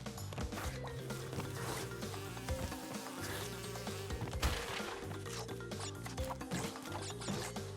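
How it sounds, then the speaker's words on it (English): Bees buzz in the platformer Crash Bandicoot 2 from the N. Sane Trilogy, a thin, continuous insect drone running under busy, rhythmic game music. "Oh look, it's more bees."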